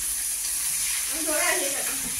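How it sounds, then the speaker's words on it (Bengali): Fish frying in a pan gives a steady broadband sizzle, with faint stirring or scraping near the end and no talking. "এই যে মাছ ভাজা চলছে"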